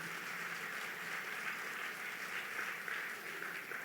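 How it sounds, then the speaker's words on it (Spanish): A church congregation claps for the Lord during a worship service, a steady, sustained wash of many hands applauding together that stays fairly even throughout. "Dale fuerte ese aplauso al Señor."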